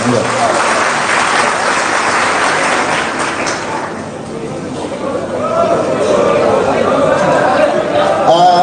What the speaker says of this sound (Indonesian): Tepuk tangan semuanya, teman-teman sekalian.